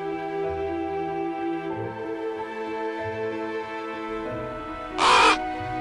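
A single harsh crow caw rings out near the end over sustained background music.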